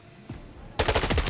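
Heavy automatic machine-gun fire from the Modern Warfare 3 campaign erupts loud and dense after a near-silent start, a rapid rattling stream of shots filling the rest of the moment.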